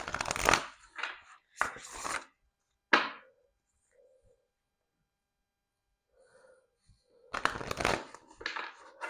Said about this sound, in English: I might just shuffle this deck before I pull anything else.